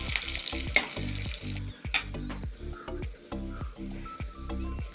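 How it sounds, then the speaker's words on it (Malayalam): Fish pickle masala with chopped green chillies sautéing in a pan gives a steady frying sizzle. Repeated rhythmic scraping strokes of a spatula clatter through it, close and fairly quiet, with no voices. "ഇതൊന്ന് നല്ലപോലെ ഒന്ന് വഴറ്റി കൊടുക്കാം"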